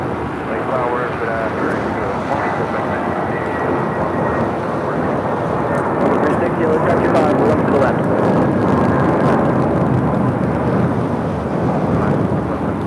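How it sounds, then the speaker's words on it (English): A JetBlue Airbus A320 in special Vets in Blue livery takes off at LAX bound for Puerto Vallarta, a loud, steady broadband engine roar that swells slightly midway and holds close throughout. "1063 taking off to Puerto Vallarta on an A320 and the Vets in Blue livery."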